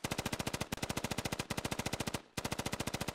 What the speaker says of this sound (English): I'm going to pop up and just shoot once, okay?